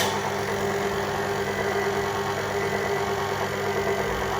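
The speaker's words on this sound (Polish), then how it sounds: "Zamykamy nasz mikser i włączamy wolne obroty." Electric mixer running on its low speed setting, mixing gluten-free oat cookie dough: a steady, even motor hum with a slight rattle, close and unbroken for the whole stretch, with no talking.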